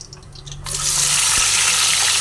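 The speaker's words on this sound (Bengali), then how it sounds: "ভালোভাবে জলটা ঝরিয়ে নিয়েছি" Water from boiled teasel gourds pours and drains in a sudden steady rush that starts after a quiet moment and stays loud and close to the end.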